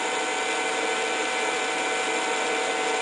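A high-speed DC motor with a gear head spins at about 6,000 RPM, giving a constant, close, bright whine with no change in pitch or level.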